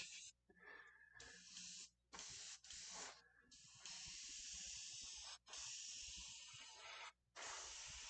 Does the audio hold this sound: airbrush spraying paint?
yes